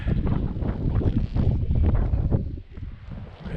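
Gusty wind buffets the microphone at a kite-flying field, a dense rushing roar that swells and briefly drops away before picking up again.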